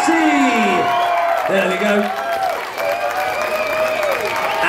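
Loud crowd applause and cheering with whoops for Wednesfield Girls FC at a Butlins presentation, sustained throughout, with voices shouting and a brief spoken phrase over the noise.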